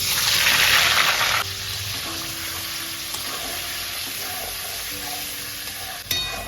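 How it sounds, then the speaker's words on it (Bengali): Chicken pieces for chicken chaap hit hot oil with a loud gushing sizzle that drops to a steady, fainter frying hiss, with a few clinks of a utensil and a sharp knock near the end. "এবার আমি মাংসটাকে এই তেলের মধ্যে দিয়ে দেবো"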